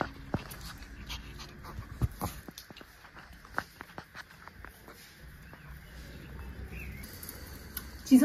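Small dogs pant softly and rapidly indoors, with scattered light clicks and taps of paws or movement, fairly close and quiet, ending in a brief louder rustle.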